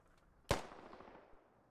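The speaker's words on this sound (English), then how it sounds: "Shit, I'm getting sniped at." A single sharp sniper shot in the military shooter Squad cracks out fairly faint and distant, trailing off in a fading echo, with the start of another report at the very end.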